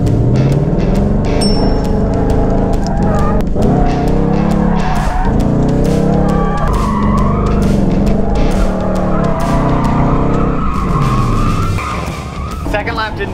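A drift car driven with left-foot braking roars close by, its engine revving hard as tires squeal and skid in long sweeping slides, loud and continuous throughout.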